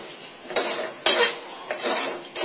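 Rice being stirred in a metal pan with a utensil, checked for plastic grains: three distinct scraping, clattering strokes of the spoon against the pan at close range, with no talking.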